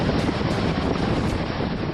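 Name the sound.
roaring surge of a flooded river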